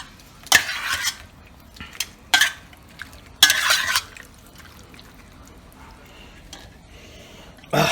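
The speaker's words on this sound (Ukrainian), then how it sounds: "Зараз я одразу перемішаю її." A fish mixture for Korean-style he being stirred in a bowl, several short bursts of scraping and clinking, close up, separated by quiet pauses.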